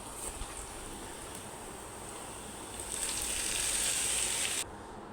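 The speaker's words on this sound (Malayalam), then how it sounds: "വെണ്ടയ്ക്ക കൂടി ഇട്ട് കൊടുത്ത് നന്നായിട്ടൊന്ന് ഇളക്കി കൊടുക്കാം" Chopped okra added to sautéed onions in a pan over a medium flame, a steady hiss of frying that grows louder and brighter for a couple of seconds before dropping back.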